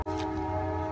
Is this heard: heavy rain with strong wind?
no